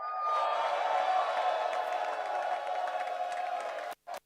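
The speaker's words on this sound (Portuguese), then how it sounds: "Vamos bater palmas e dar as boas-vindas ao nosso papai para ministrar. Fiquem de pé e deem um grito de alegria." A church congregation at a service in Elmina, Ghana claps and cheers together in a steady, dense wash of sound that fills the room, then cuts off abruptly near the end.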